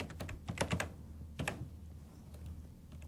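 Fingers tap on a computer keyboard in a quiet room, a short flurry of close, crisp keystrokes followed by a pause and a few more scattered presses.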